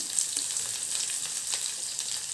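Garlic frying in a pan as the first step of a Tulunadu-style bhindi fry, an even close sizzle with faint crackles and no voices.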